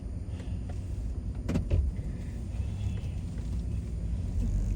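A car drives through a small rural town in Elizabethtown, North Carolina, its steady low road rumble and engine drone continuous throughout, with a brief louder thump partway in.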